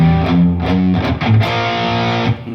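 An electric guitar plays a riff slowly with a thick, distorted tone, chugging low notes in a steady repeated pattern, loud and close with no talking.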